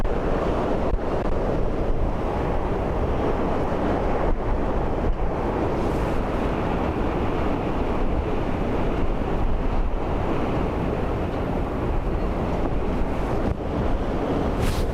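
Strong Storm Bram wind at Dublin Airport roars as a loud, continuous buffeting rush that pounds the microphone with heavy, unbroken gusts, and no voices are heard.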